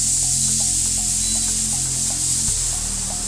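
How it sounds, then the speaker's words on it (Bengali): An electric water heater runs after being switched on, giving a steady, close hiss and hum with faint regular ticking, shifting pitch slightly partway through. "জলটা প্রথমে এটা সুইচটা অন করে জলটাকে একটু হিট করে নেবো।"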